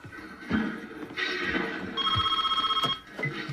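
An old-fashioned telephone bell rings in a house, a bright sustained trill lasting about a second and stopping abruptly, amid other loud sounds.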